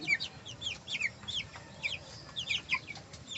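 Young broiler chickens, seventeen days old and fed a commercial feed, give off soft repeated cheeps and clucks in short clusters over a low background rumble, fairly quiet and with no talking.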